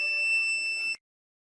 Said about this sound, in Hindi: I R receiver L E D sensor भोवती आग लागल्यास बजर आवाज निर्माण करतो